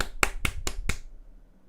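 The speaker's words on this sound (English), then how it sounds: "I was clapping to myself." Hands clap four times in quick succession, close and fairly soft, followed by quiet room tone.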